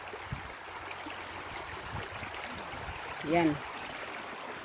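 River water flows steadily in a mountain setting, a soft constant rushing with faint trickles, while a voice speaks briefly over it.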